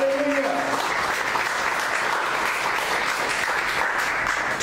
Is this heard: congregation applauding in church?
yes